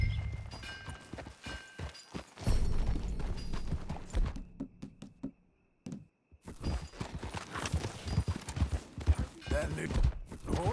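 Horse hooves clip-clopping at a steady riding pace in Red Dead Redemption 2, close and moderately loud, with game voices talking over them and a short quiet gap midway.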